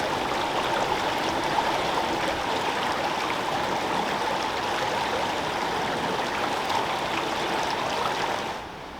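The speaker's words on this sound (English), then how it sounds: "this is a wider section here of our wonderful and quite beautiful River Windrush" The River Windrush runs along a wider section in the Cotswolds, a steady, close rushing and burbling of stream water that holds even throughout and drops away at the very end, with no voices.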